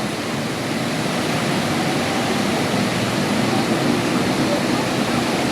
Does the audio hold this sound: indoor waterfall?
yes